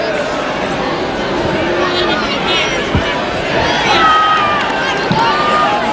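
Football crowd at a 1969/70 QPR home match against Birmingham, a dense, loud roar of cheering and shouting that swells steadily for several seconds, with scattered individual yells rising out of it.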